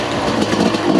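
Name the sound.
TM EN300Fi dirt bike engine lugging in second gear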